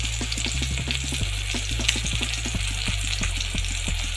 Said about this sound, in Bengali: আস্তে আস্তে করে ভাজা হোক